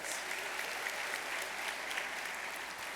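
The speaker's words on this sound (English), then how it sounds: "Give them a round of applause." Steady, dense applause from an awards-ceremony audience celebrating education honors, sustained at an even level throughout with no speech over it.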